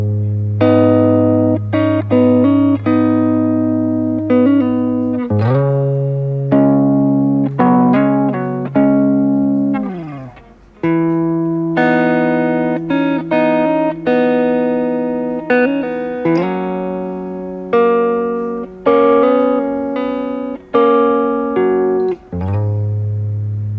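An electric guitar plays the intro of a song, plucked two strings at a time, slow and clear, with ringing sustained notes in steady phrases, with effects and reverb and no talking over it.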